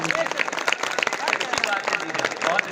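An audience at a mushaira clapping, the applause rising as a busy patter of hands, with a voice speaking over it much of the time.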